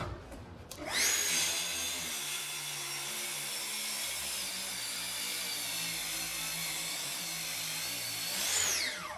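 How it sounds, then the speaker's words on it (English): An old Festool track saw rips through 2-inch thick hard maple, a loud steady whine with a dense grinding roar that spins up, holds evenly for about eight seconds, then winds down at the end. "I'll cut through this 2-inch thick hard maple first with my old track saw"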